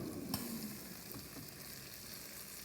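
Breaded chicken pieces cook in an air fryer to imitate Kentucky fried chicken, a faint continuous sizzle and fan hiss with a soft click near the start, no voices.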